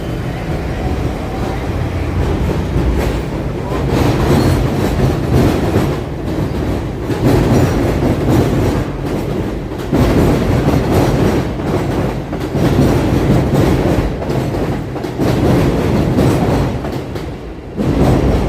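A New York subway train runs between Coney Island and Bensonhurst in Brooklyn, a loud continuous rumble with rhythmic clattering of wheels over rail joints from start to finish.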